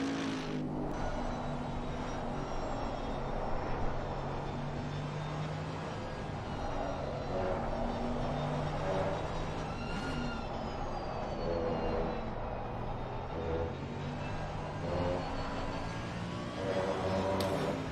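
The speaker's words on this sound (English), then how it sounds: "Sitting here swooning over the sound of that engine." A race car engine at Circuit of the Americas holds a loud, sustained whine from start to finish, its tones rising and falling as the revs change. No one speaks over it.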